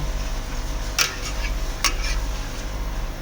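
Rice being tipped into boiling water and stirred in a pot, two sharp clinks of a spoon against metal over a steady low rolling boil; close and fairly loud, no talk.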